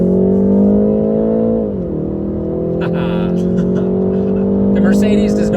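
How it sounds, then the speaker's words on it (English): A 2020 BMW 330i sedan in sport mode: loud engine drone inside the car, pitch dipping at a shift then climbing steadily as it revs, with some faint clicks and rustles near the end. "click it down into sport mode. You can hear it rev up"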